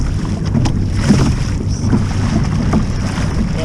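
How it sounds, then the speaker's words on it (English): Steady wind rushing over open water while paddling, with constant low rumble and buffeting against the microphone, no speech. "It's still windy."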